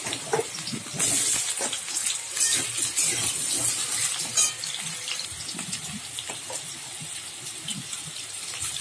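Potatoes dropped into hot oil in a kadai, a loud continuous hiss and crackle of frying that holds close and steady throughout.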